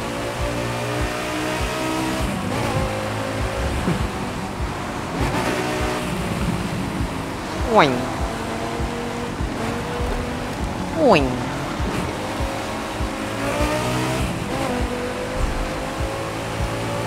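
A car in The Crew 2 racing game drives fast through tunnels, its steady engine drone rising and falling in pitch with quick whooshing sweeps as it passes. People talk over the engine throughout.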